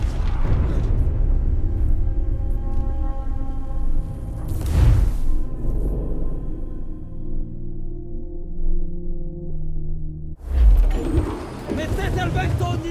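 Incoming enemy cannon fire explodes around a ship in Assassin's Creed Black Flag, two heavy booming blasts landing several seconds apart over a steady rumbling battle din, with shouting voices throughout.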